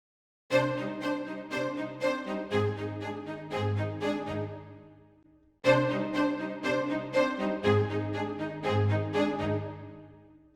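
Plucked, bright orchestral strings from a sample library play, stop briefly, then repeat, with saturation switched in and out; each note sharp and rich in overtones, heard twice with no talking.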